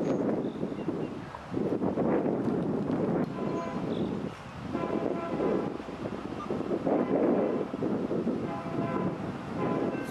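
BNSF freight train passing on the Cuba subdivision, a steady roar of rolling wagons and rumble with wind buffeting the microphone, continuous and fairly loud throughout without speech.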